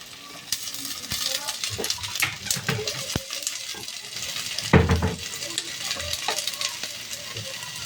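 Steady sizzling and frying of string beans stir-fried with tofu and garlic in a pan, with scraping stirs and clinks of a utensil against the pan throughout, plus a louder clatter midway and occasional quiet voices.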